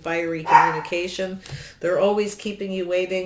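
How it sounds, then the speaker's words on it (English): A dog barks briefly in a home, low and partly buried beneath a person's steady talking close to the microphone. "Sorry for my dog."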